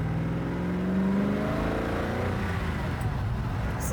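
A 2008 Koenigsegg CCX supercar engine ticking over under very light throttle, a low steady rumble with a gentle rise in pitch, heard from inside the car at a moderate level.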